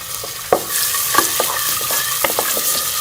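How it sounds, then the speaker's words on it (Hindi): Chopped onions frying in half a spoon of ghee toward light golden for moong dal tadka, a loud, close, continuous sizzle broken by sharp spoon clacks and stirring scrapes at an uneven rhythm, without talk. "आधा चम्मच जो है वो हम घी की डालेंगे और इसमें हम जो ये प्याज शामिल डालेंगे, इसको लाइट गोल्डन कलर दे देंगे।"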